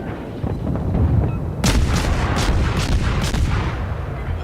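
Warship cannons in the World of Warships naval game fire in a dense salvo of booming blasts that start after a low rumble. Several sharp reports land in quick succession, loud and close, with no talk over them.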